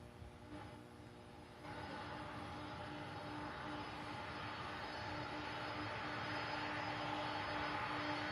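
A 31-year-old MD-11 jet airliner arriving from Norfolk, Virginia drones faintly from a distance, its engine hum and tonal whine slowly growing louder as it approaches to land.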